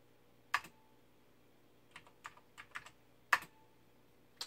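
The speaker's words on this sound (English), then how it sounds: "feels really good, so soft, so nice to type in." Keys on a Sony HB-701FD MSX computer keyboard are pressed in a few sparse, close taps, with two firmer strokes standing out among lighter clicks against a quiet background hum.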